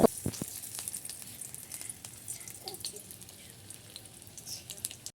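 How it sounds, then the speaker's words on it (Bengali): Soybean chops frying in hot oil, a soft continuous sizzle with scattered crackles and a few sharper pops at the start, fading slightly toward the end, with no talk. "এবার তেল গরম করে লাল লাল করে ভেজে নেবো"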